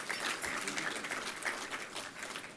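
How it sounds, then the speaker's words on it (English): Audience applause at an awards banquet, a brief, steady wash of clapping at moderate volume. "Let's give both Jeff and Brett a huge round of applause."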